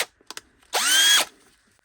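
A Parkside 20V cordless drill whirs up for about half a second and spins down, loud and close, after a couple of faint clicks from its trigger and direction switch.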